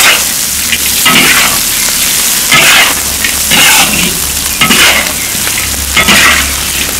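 Quail with tangerine leaves, Sichuan pepper and chili oil is stir-fried in a wok, giving a loud, steady oily crackle with repeated scraping stirs of the spatula.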